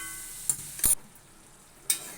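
Marinated mutton frying in a pan, stirred now and then, a faint low sizzle broken by a few short, sharp scrapes and clanks of the spoon against the pan.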